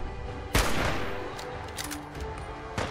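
Gunfire from Fallout 4 combat: a sharp loud shot opens the clip, followed by a ringing, decaying crackle of continued fire and faint distant shots, then another strong blast at the end.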